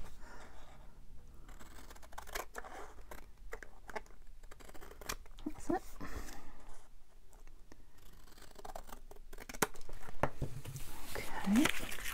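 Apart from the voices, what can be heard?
scissors cutting thin card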